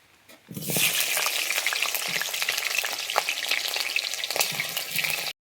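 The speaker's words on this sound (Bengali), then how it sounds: "এবারে আমি আলুগুলোকে ভেজে নিচ্ছি" Potatoes hit hot mustard oil in a kadai and fry with a loud, continuous crackling sizzle, stirred now and then, close up and without talk.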